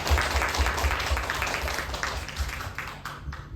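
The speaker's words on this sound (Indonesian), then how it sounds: "Kita beri aplaus kepada Mas Adit." A seminar audience applauds after a healthcare orientation presentation in Surakarta, many hands clapping in a steady, fairly loud wash that gradually thins out toward the end.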